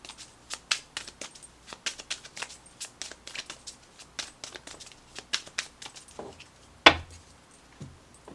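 A deck of tarot cards being shuffled close up, a rapid series of crisp riffling snaps and slides with one sharper slap near the end and no voices.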